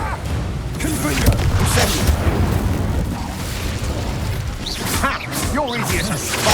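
A Confringo fire spell explodes in the video game Hogwarts Legacy, with booming blasts and bursts cutting through combat noise and voices.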